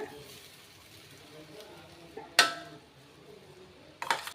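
A spoon stirs fried paneer through rice in a pan, giving a couple of brief scraping clinks against quiet kitchen background, one sharp knock near the middle and another clatter at the end.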